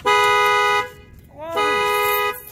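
A 2018 Honda Accord 2.0T's alarm is set off by its shock sensor: loud, close, steady horn-like tones in two long bursts, separated by a short rising and falling chirp.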